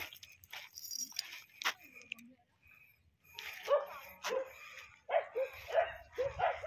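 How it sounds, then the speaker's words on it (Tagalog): Several dogs bark and yip in irregular bursts on a beach at Turtle Island, Siaton, Negros Oriental, some near and some a little farther off, with quiet gaps between the barking. "Daming aso."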